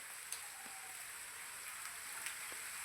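The first rain of the season pours down over a village in a constant soft hiss, with a few faint drips standing out; no voices.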